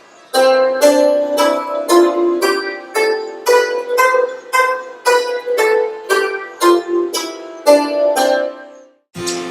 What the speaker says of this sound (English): there are 7 Indian notes and they are played by striking the 2 wooden sticks on every note.